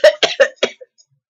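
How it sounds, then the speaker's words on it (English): A character in The Sims 4 coughs up feathers in a quick burst of four close, loud hacking coughs followed by a small trailing throat sound. "The girl's coughing up feathers."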